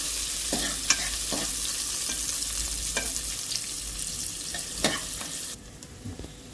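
Onions and green chillies fry in a pan for a broken-wheat dal khichdi, giving a continuous soft sizzle broken by several sharp stirring scrapes and taps, with no talk.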